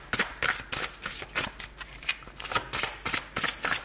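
Tarot cards shuffled and handled in quick rhythmic bursts, crisp riffling slaps repeating roughly every half second, close and clear with no talking.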